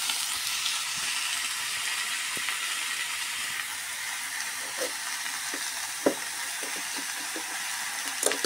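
Ridge gourd, potato and tomato sauté in a pan with a steady, soft sizzle and hiss, punctuated by light scraping and stirring clicks near the end.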